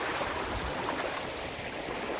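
River water rushing steadily during a mountain expedition crossing, a low-level, shallow river with a mild current, giving a continuous broadband wash close by with no voices.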